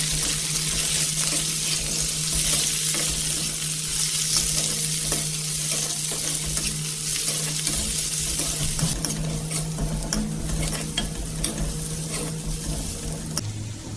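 Sliced onion frying in a pan for potato kurma, a loud continuous sizzle with frequent stirring scrapes, steady throughout without talk.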